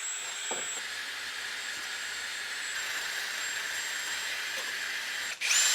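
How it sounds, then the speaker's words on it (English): A power tool grinds surface rust and loose material from a car's underside, giving a continuous, steady whirring drone with slight variations in pitch, heard close, and ending in a brief loud knock. "So the aim here is to grind back any loose material."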